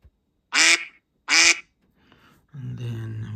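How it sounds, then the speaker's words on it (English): Apple iPhone 16 Pro Duck ringtone: two loud, nasal duck quacks in quick succession, followed by a lower, rougher quacking sound, close and alone. "Duck."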